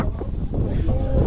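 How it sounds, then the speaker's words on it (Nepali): Wind buffets the microphone outdoors around Palm Jumeirah in Dubai, a steady, loud low rumble and rush lasting the whole moment with no clear gusts or breaks. "यो साइडबाट हावा रहेछ क्या"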